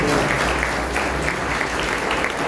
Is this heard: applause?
yes